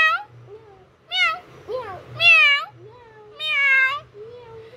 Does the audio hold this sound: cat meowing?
yes